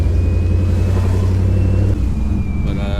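A Pontiac G8 fitted with boost and wideband gauges accelerates onto a freeway, its engine a loud, steady droning hum inside the cabin. The note drops and shifts near the end as the car changes gear.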